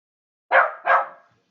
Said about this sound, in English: barking, barking from under the blanket.